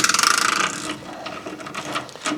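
A wheel hub nut on a Ford F350 is spun off by hand, giving a quick run of close mechanical clicks and ratcheting ticks. The clicks are fairly loud at first, then sparser, light rattles follow.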